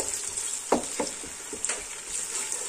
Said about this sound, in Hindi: एक कटोरी छोटा मैंने इसमें तेल का डाला है, और ये हम प्याज डाल देंगे